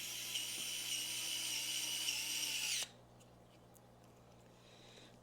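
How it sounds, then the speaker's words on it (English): A power drill whirs in a high, steady whine while driving screws into an RC car (a Losi NASCAR Grom), running for about three seconds, then stopping abruptly, followed by faint clicks and handling sounds. "I don't use the power tool to tighten it all the way down"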